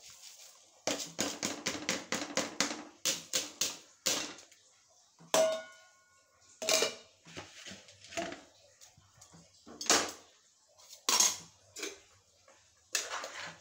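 A spoon scrapes and knocks against a biryani pot while rice is stirred, a run of quick close clinks and taps followed by sparser, sharper metallic knocks.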